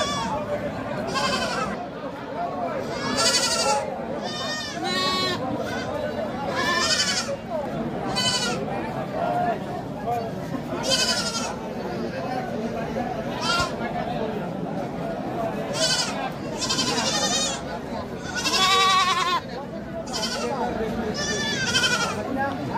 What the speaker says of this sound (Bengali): দেশি ব্ল্যাক বেঙ্গল ছাগলের বাচ্চা ঘুরানো ছাগলের বাজার